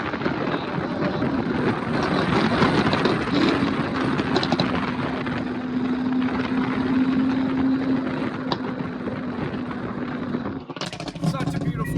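A Lamborghini Aventador's V12 engine roars with a sustained, loud drone and a steady tonal note, ending in a sharp burst of crackling, while people talk excitedly over it.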